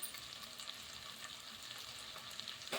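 Spices, cashews and cooked potato sautéing in hot oil for sevai upma, a steady close sizzle and crackle with occasional scrape of stirring.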